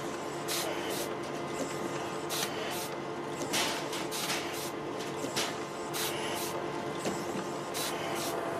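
A soap-cutting machine stamps round bars from a long pressed soap billet, giving a steady mechanical hum broken by regular sharp hissing strokes, roughly one every second, close and fairly loud.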